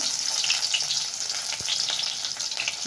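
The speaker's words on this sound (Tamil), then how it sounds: "கடுகு நல்லா பொரிஞ்சதும் சின்ன வெங்காயம் போட்டுக்கோங்க" Small shallots frying in oil just after mustard seeds have popped, a close, continuous crackling sizzle with one brief knock of a utensil.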